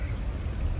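Water pours steadily over freshly cleaned crab during washing, a continuous close splashing gush with no pauses.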